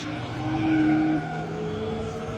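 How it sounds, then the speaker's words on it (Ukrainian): Car drifting at an auto show with rally cars, a Lamborghini and a carbon Porsche, tires squealing in a long high-pitched screech over steady engine roar, loud and sustained for about a second before easing into continuous motor noise. "Там у нас дріфтують. Напевно, розігрівають гуму."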